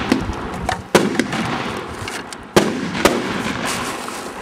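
A cylinder salute firework, a 2 to 3 inch shell, bursts with sharp loud reports, several cracks spaced unevenly over a few seconds, each followed by a brief echoing rumble outdoors.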